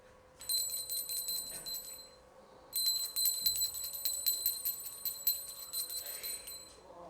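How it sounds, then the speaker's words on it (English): A hand bell rings indoors in two bursts of rapid jingling strikes, the second longer and shaken in a fast, uneven rhythm, fairly close and moderately loud with no talk over it. "I'm going to ring this bell 3 times, okay, and in different ways"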